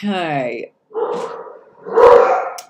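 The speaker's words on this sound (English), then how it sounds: "Sorry, my dogs are barking." Dogs barking at home during a live tarot reading, a couple of loud rough barks in the middle and end, with someone talking over and between them.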